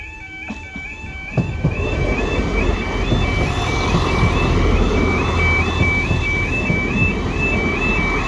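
Level crossing alarms at Cullybackey Station near Ballymena sound a steady two-tone warble over a continuous low rumble of rail traffic, after a few brief knocks at the start.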